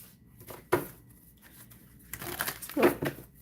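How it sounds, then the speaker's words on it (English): Tarot cards being shuffled, with soft papery crinkles and riffs, a few louder bursts near the start and end over a quiet background. "A few more shuffles."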